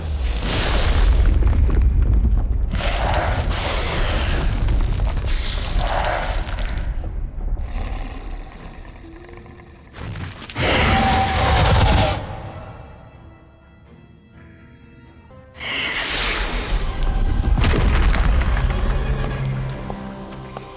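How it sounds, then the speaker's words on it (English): Stone statues blown apart in the Harry Potter: Magic Awakened game, heard as loud, sustained booming blasts with crumbling debris, separated by quieter lulls before another heavy explosion. "What a mean thing to do, destroying perfectly nice statues."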